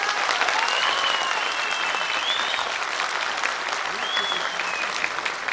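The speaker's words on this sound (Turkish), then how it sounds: "memnunsanız bir alkış istiyorum" A crowd at a community gala night claps loudly and continuously for several seconds, a dense, sustained round of applause with music faintly underneath.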